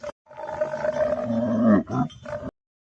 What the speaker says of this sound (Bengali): দন্তস্বয় সিংহ রাগে কেশর নাড়ে